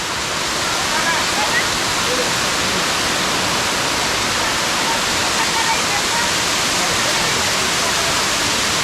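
A loud, unbroken roar of rushing water from a nearby waterfall at Bilai Chhari, dense and steady throughout.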